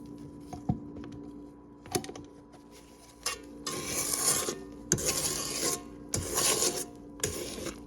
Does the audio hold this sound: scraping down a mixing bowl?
yes